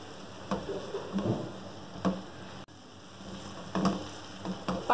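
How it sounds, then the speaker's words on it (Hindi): Mixed lentils with turmeric, red chilli and coriander powder fry over a medium flame, a soft steady sizzle broken by light stirring scrapes and occasional pops, close and fairly quiet with no talking. "पाँच मिनट मीडियम फ्लेम पर इसे फ्राई करेंगे"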